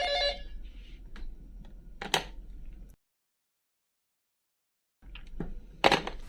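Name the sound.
mobile phone ringing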